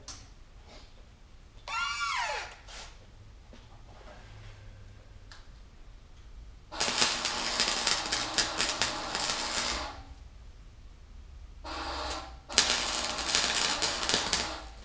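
Metal snips cut sheet metal on a Toyota 4Runner in repeated bursts of rapid, crisp clicking and crunching, close and loud, separated by quieter pauses, with a brief squealing whine early on.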